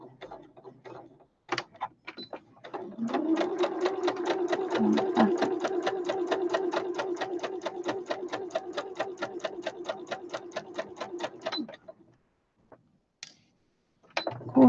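A sewing machine stitches a seam for a snippet basket on a sewing runner, running in one steady, rapid mechanical chatter for about nine seconds, with scattered handling clicks before and after.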